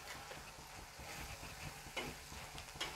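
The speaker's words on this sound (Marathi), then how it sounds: "मसाला आपण चांगला हलवून घेऊ, चांगलं परतून घेऊ।" Egg masala being stirred and sautéed on a tawa, a faint steady sizzle under low background hum with a couple of brief scraping spatula strokes, close but quiet.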